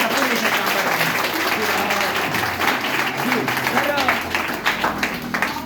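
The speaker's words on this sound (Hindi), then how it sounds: "मैं चाहूंगा आप सभी लोग जोरदार ताली बजाइएगा सर के लिए" Audience applause for a speaker at a direct selling motivational seminar, a dense, steady wash of clapping filling the room from start to finish, with faint voices mixed into the noise.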